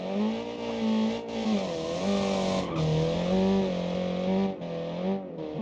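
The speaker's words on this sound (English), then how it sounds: "a couple of wide moments saw the car bouncing over some vicious bumps and nearly running into some trees at a hairpin" A rally car in the BeamNG racing game roars through a jungle stage on Rock Island, its engine revving up and down and dipping briefly as it bounces over rough bumps, loud and close throughout.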